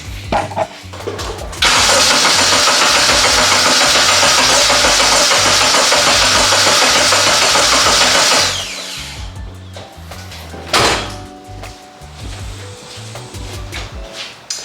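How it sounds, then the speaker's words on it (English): A turbocharged K24 engine in a rear-wheel-drive car cranks loudly and steadily for about seven seconds without starting, a harsh continuous churning whir, then stops, leaving some clatter and rumbling. "we're gonna go ahead and go for a first crank"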